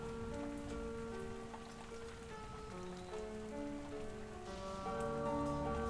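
Rain falling during a thunderstorm, a soft steady patter quietly underneath sustained musical tones, low in level and continuous.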